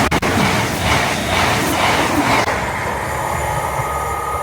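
A Northern passenger train rolls into a station on the Crewe to Stockport line, loud and close, with rumbling wheels and a brief squeal that settles into a steadier, quieter rumble as it slows.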